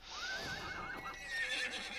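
A video game horse whinnies with a wavering, rising and falling call, close and clear, followed by a second fainter whinny.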